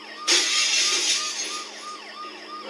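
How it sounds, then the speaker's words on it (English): A wailing ambulance siren in the game Dead Synchronicity rises and falls repeatedly over a steady hum, with a loud burst at the start settling into a continuous electronic wail. "The noise the ambulance makes will cover the sound of the glass breaking."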